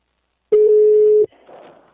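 A telephone line tone sounds as a call is placed: one loud, steady beep lasting under a second, followed by faint muffled line noise.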